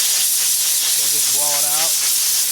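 Compressed air blasts through the air filter of a Cub Cadet 7360SS utility vehicle as a loud, continuous, close hiss, with a brief voice rising over it partway through.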